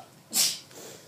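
A single short sneeze bursts out in a classroom, one sharp, loud hiss-like release lasting a fraction of a second, followed by quiet room tone.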